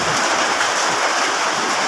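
Heavy rain pours down steadily, a dense, loud hiss of water with splashing runoff close by, continuous and unbroken with no voices.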